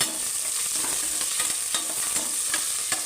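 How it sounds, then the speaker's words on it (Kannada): Onions frying in a pan for a tomato rice dish, a steady broadband sizzle with repeated scraping stirs of a spoon, close and continuous with no talk. "ಈರುಳ್ಳಿ ಹಾಕ್ಕೊಂಡು ಚೆನ್ನಾಗಿ ಬಾಡಿಸ್ಬೇಕು."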